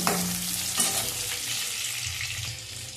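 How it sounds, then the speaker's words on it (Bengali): Eggplant frying in a pan with spices and garlic paste gives a steady, close crackling sizzle with a brief stir near the start. "বেগুনটা ভাজা হয়ে গেছে"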